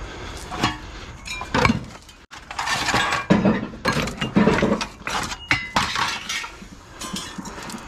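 Heavy metal brake rotors, around twenty pounds each, tossed onto a pile one after another, loud clanking and ringing metallic crashes close by in an irregular rhythm.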